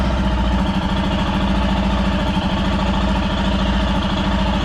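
A Nissan Rogue's engine idles steadily and close by, a continuous even hum with a low rumble and no pauses, heard alone without any talk.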